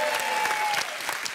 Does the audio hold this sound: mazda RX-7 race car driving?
no